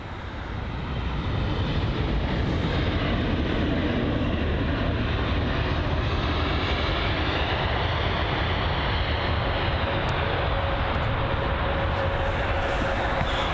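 An Austrian Airlines Airbus A320neo at Heathrow fills the air with a loud, sustained jet roar that swells in over the first seconds and holds steady, with no voices.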